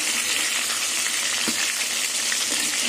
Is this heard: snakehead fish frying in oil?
yes